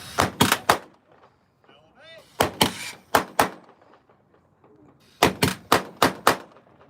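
Guns fire in rhythmic volleys during a living history drill aboard USS Alabama, with three groups of sharp, loud reports (three, four and five shots) separated by quiet gaps where faint voices talk.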